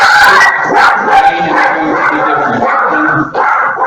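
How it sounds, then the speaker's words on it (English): A dog barks and yips close by, several loud rapid barks in quick succession with a whiny edge, filling the short moment on its own. "that is my dog."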